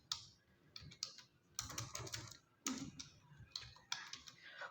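Quiet typing on a computer keyboard in Microsoft Word, bursts of quick close key clicks separated by short pauses, with no talk over them.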